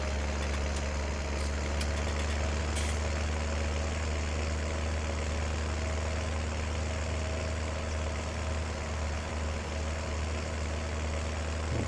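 A small farm tractor idles steadily in Farming Simulator 19, a constant low engine drone with an even mechanical hum and no change in pace, alone and moderately loud the whole time.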